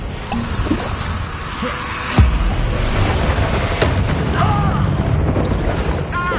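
A heavy Bombarda blast spell in Hogwarts Legacy lands with a sudden deep boom, followed by a rumbling, crackling tail under continuous battle noise and scattered spell effects.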